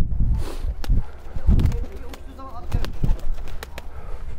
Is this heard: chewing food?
no